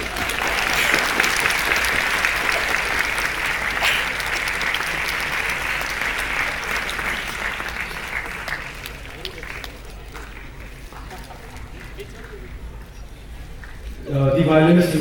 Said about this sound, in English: I think we can have a huge round of applause at this moment